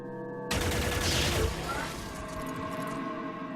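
A sudden loud volley of enemy gunfire in the turn-based game Xenonauts, a dense crackling burst that fades into a lingering rumble and echo.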